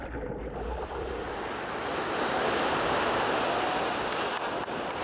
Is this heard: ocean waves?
yes